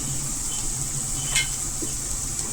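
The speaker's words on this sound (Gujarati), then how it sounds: "ડુંગળીનું કચાસપણું નીકળી જાય ત્યાં સુધી પાકવા દેશું" Onions frying in a pan with turmeric powder added to the spice mix, a soft continuous sizzle with a faint spoon scrape partway through, close but quiet, no voices.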